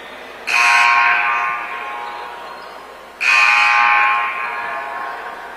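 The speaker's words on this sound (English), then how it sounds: "that's why they were hitting the buzzer so many times" An arena buzzer at an NCAA Division 2 PSAC men's basketball game, Lock Haven at Shepherd, blares loudly twice: two long, steady buzzes a few seconds apart, each fading slightly before cutting off.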